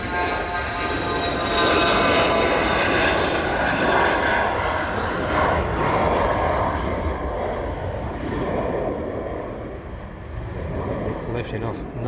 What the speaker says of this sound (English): Lifting off nice and early there.